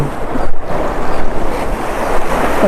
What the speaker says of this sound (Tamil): தண்ணி சத்தம் பாருங்களேன், செம்மையாக கேட்குது.